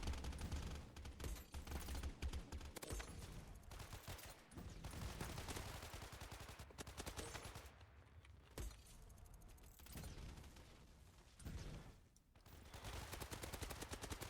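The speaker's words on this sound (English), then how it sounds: "People attacking me with rockets." Rapid gunfire and explosive rocket blasts from a video game firefight, dense and loud throughout with sharp bursts layered over constant action noise.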